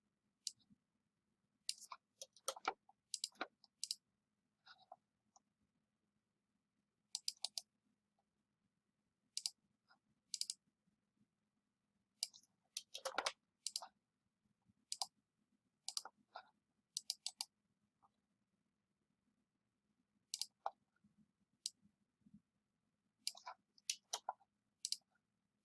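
A computer mouse clicks in a quiet room, with sharp single and double clicks arriving in scattered clusters against a faint steady hum, close and clear, with no talking.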